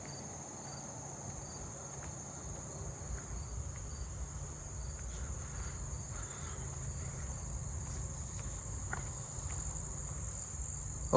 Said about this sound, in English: There's a fall field cricket pretty close.